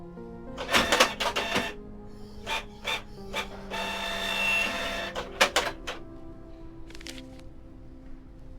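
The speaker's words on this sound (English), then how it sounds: "I'll have these printed." A printer in the game Kathy Rain 2 whirs and clacks as it feeds pages, with a steady mechanical hum beneath sharp repeated clicks and a longer buzzing run, close and alone.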